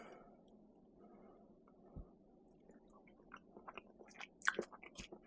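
Someone tastes soggy oyster dressing, with quiet close-up chewing and soft wet mouth sounds building toward the end over a faint background hum.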